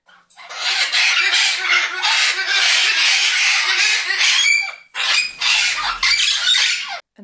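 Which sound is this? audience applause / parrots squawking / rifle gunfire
parrots squawking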